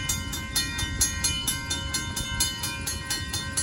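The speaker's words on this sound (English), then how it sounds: "Here comes the 22 train." A northbound Amtrak Texas Eagle train 22 passes at Oltorf Street in Austin, Texas, with a steady loud rumble, a rhythmic clatter of wheels over rail joints and a high metallic ringing throughout, and no voices.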